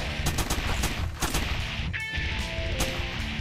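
Rapid shotgun blasts fire in the top-down shooter game Crimsonland, loud repeated bursts in quick succession with a few brief electronic pickup chimes.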